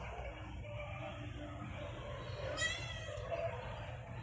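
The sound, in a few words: cat meowing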